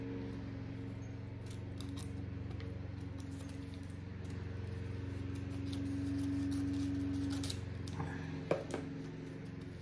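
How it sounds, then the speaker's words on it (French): Scissors snip through a paper envelope in a few quick, close cuts over a quiet room hum, ending with light clicks of the blades. "il faut que je redécoupe l'enveloppe"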